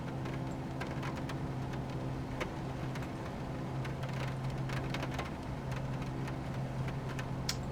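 Rain pattering in Microsoft Flight Simulator around a Cirrus CR-22 light aircraft, a steady wash of drops and scattered ticks over a constant engine drone, with no one talking.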